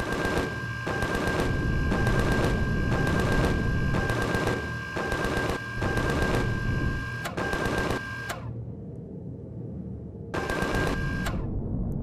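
Gunfire in the Empyrion Galactic Survival video game comes as rapid bursts of automatic fire, repeated in evenly spaced clusters and then broken by short pauses, fairly loud and with no talk.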